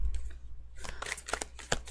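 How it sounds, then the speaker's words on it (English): A deck of tarot cards riffled and shuffled up close in a quick flurry of crisp, fluttering snaps. "can I do like one good shuffle?"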